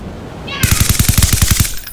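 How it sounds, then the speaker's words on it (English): Garry's Mod game gunfire, a close, loud automatic burst of about a dozen rapid evenly spaced shots with a brief voice just before it. "Stop shooting me."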